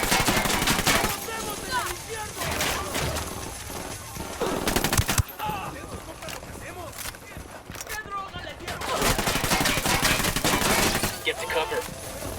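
Automatic rifle fire in Ghost Recon Wildlands comes in loud, rapid bursts with pauses between volleys, mixed with game sound effects and speaking voices.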